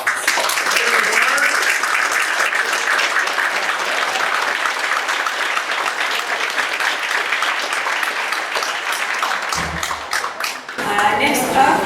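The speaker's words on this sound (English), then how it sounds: "I welcome the audience to join me in a round of applause" Applause and clapping from a county candidates forum audience, steady and dense for most of the stretch, then breaking off into a few thuds and scattered claps at the end.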